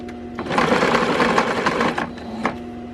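A sewing machine runs steadily for a couple of seconds, stitching folded old T-shirt fabric into a chair cover, with a close, even mechanical whir that stops briefly and then gives a final short burst.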